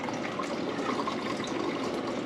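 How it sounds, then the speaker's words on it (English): Buttermilk pours steadily into a jar as homemade butter is being made, a continuous close liquid gush and splash with no talking. "pour my buttermilk in here. It goes in the jar."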